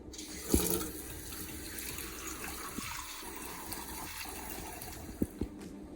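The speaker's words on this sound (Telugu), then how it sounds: "ఇలాంటి బౌలు తీసుకున్న వెంటనే దీంట్లో లైట్గా వాటర్ పట్టుకోండి." Water runs from a tap into a bowl in a kitchen, a steady faint splash with a few small clinks and knocks.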